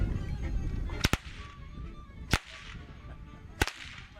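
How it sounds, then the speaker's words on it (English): A whip cracks sharply three times at a donkey show outdoors, loud isolated snaps about a second apart, the first a quick double crack, over a low background murmur. "let's see what he can do with his whip"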